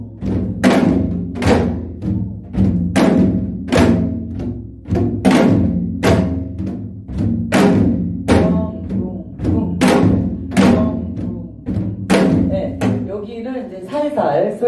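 Korean janggu drum beating the jajinmori rhythm for a folk song accompaniment lesson, loud close strokes in a repeating pattern of deep thumps and sharp slaps, steady and regular throughout.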